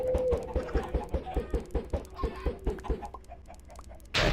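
Minecraft chickens cluck in a quick, even rhythm, a dozen or so short clucks close together, then the sound thins out before a brief burst of noise.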